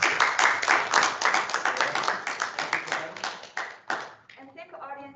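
An audience bursts into a dense round of hand-clapping applause at the close of a presentation session, steady and fairly loud for about four seconds before fading as a voice begins talking.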